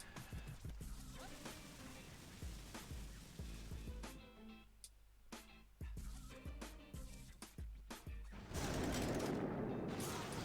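Shock launcher firing in the Boom Beach mobile strategy game, a run of sharp repeated blasts and crashes with dense gunfire-like bursts, a short lull in the middle, then a loud sustained roar near the end.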